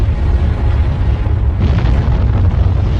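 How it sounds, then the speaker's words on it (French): A volcanic eruption on the Caribbean island of Montserrat rumbles as a continuous loud, deep roar with a broadband blast of rushing noise rising partway through. "L'explosion a provoqué un écoulement pyroclastique"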